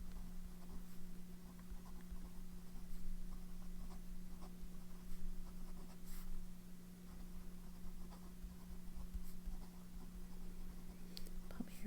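A pen scratches softly across paper in short, quiet strokes and taps, set against a constant low electrical hum, with faint whispery breathing nearby.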